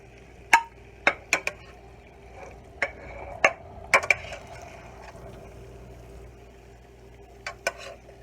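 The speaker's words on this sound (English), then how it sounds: "Now I'm just going to spoon this over into my casserole dish." Spoon scraping and clinking against an ungreased casserole dish while chicken and rice casserole is moved over, about a dozen sharp metallic clicks in uneven bursts, close and clear with no talking.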